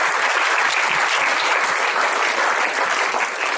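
Loud, dense clapping from a large audience at a talk on the future of work, continuous and even from start to finish with no voices standing out.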